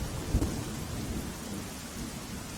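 Heavy monsoon rain pours steadily in Palanpur, Banaskantha, with a low rumble of thunder building near the start under a constant dense hiss of rainfall; no voices.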